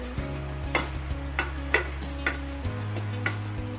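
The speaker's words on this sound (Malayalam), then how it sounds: "വറുത്ത് മാറ്റി വെച്ചിരുന്ന ചിക്കൻ ചേർത്ത് കൊടുക്കാം." Fried chicken being stirred into biryani in a pot, a series of regular spoon-against-pot clinks and scrapes over a low steady hum, quiet and close.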